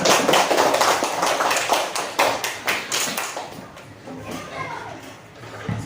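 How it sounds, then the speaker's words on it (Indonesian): A classroom of pupils claps for Najmi, with sharp, fairly rhythmic hand claps for about four seconds, then fading into softer taps and scattered noise while a voice speaks underneath. "Tepuk tangan untuk Najmi"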